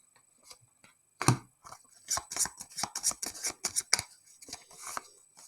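Cards from the Aeon Trespass Odyssey board game are shuffled by hand close by: one sharp snap, then a quick, uneven run of soft flicks and clicks.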